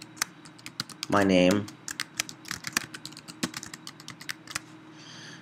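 Quick keystrokes on a computer keyboard, a steady run of light clicks with one brief spoken phrase early on, while text goes into a photo-editing program.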